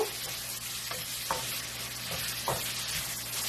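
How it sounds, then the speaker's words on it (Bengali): Onions fry in a pan until golden for a shrimp bhuna, with a constant near sizzle broken by a few sharp spoon stirs and scrapes, no talking. "পেঁয়াজ এখন সোনালি কালার হওয়া পর্যন্ত আমি ভেজে নিব"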